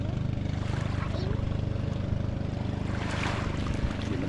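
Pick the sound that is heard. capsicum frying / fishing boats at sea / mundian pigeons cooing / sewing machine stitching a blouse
fishing boats at sea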